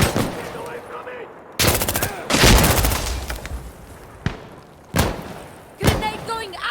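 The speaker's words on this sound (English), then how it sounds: "Watch out! I'm throwing a grenade!" Grenade blast and gunfire in the video game Insurgency Sandstorm: several sharp, loud bangs and bursts of shots spaced a second or so apart, with shouting players in between.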